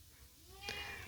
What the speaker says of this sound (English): I have a very chatty cat.